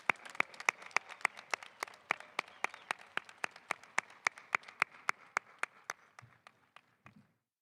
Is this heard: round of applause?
yes